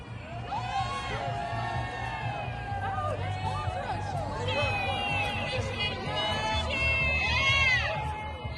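A crowd of patriots cheers on ICE officers among activists at a Portland street scene, with sustained whoops and shouts layered over a steady babble of many voices, loud and continuous throughout.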